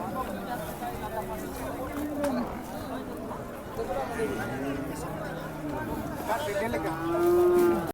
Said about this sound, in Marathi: म्हैस सुटली